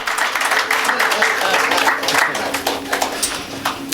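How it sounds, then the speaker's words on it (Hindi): An audience at a spiritual discourse gives sustained applause, a dense continuous patter of many hands at moderate loudness, with a voice speaking faintly over it. "अरे तालियां बजाओ जोर से"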